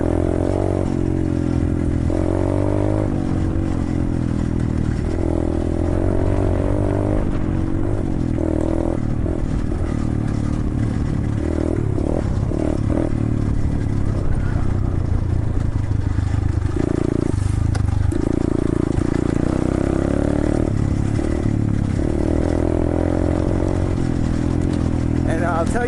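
A 125cc Chinese pit bike engine drones steadily and loudly throughout a trail ride, with rattles and scraping from the rough ground mixed in.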